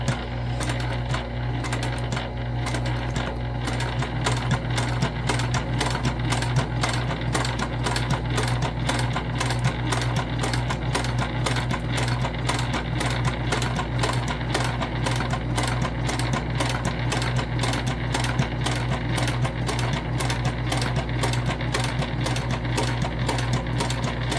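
A sewing machine runs a steady top stitch one eighth of an inch from the outside edge of a textured crossbody bag, a continuous close, even whirring hum with rapid needle clatter and no pauses.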